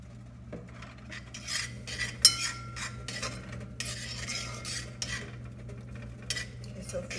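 Goya sofrito being stirred into a pan for a sardine breakfast, with a utensil scraping and clinking against the metal in uneven strokes over a low steady hum, one sharper clank, no speech.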